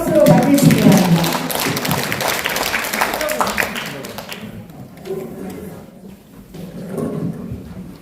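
Audience applause at an awards ceremony and forum, a dense burst of clapping that fades out over several seconds while a voice speaks over it.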